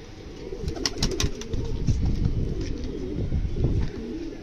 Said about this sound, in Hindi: देखिए ये कबूतरी आकर बैठी हुई है